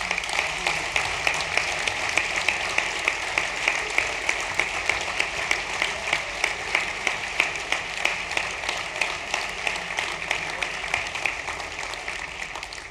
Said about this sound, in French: je vous demande de les applaudir chaleureusement